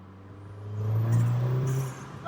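A VW Golf R / GTI MK7 2.0T accelerates in third gear, engine rising then easing off, with a diverter valve flutter showing up as a brief fluttering whoosh as the throttle closes.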